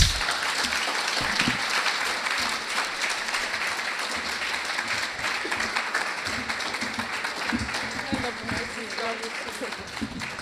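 A large audience applauds at a white coat ceremony, with dense sustained clapping that fills the room evenly from start to finish and faint voices mixed in underneath.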